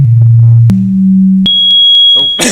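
A browser JavaScript program plays sine wave tones at randomized frequencies: a loud low steady tone, then a jump to a slightly higher one, then a thin high whistle pulsing in short beeps, ending in a burst of noise.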